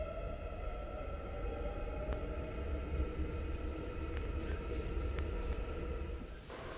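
Steady low rumble of an airport railway train ride heard from inside a carriage, with faint clicks and rattles over the continuous drone and no talking.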